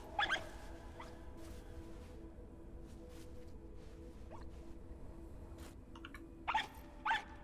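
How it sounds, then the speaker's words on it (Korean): A dog in a video game barks in short yips, a sharp burst at the start and two more near the end, over a quiet background of faint game sounds. "개가 짖는 이유가 있을 텐데."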